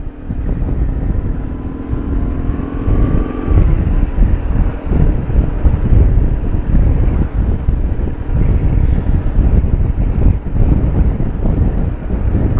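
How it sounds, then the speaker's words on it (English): Strong wind buffets the microphone during a motorcycle ride in a loud, continuous low roar that rises and falls in gusts. "Very, very windy it is today as well."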